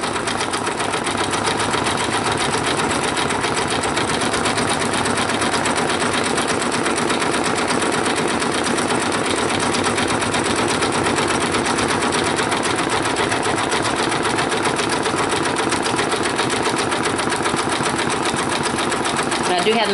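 An embroidery machine set to 800 stitches per minute rattles with a fast, steady, loud mechanical chatter while stitching a rain jacket hood, running continuously with talk over it.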